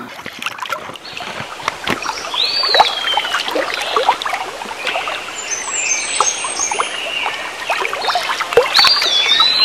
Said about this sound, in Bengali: জলের কন কন আওয়াজ